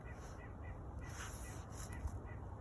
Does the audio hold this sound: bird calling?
yes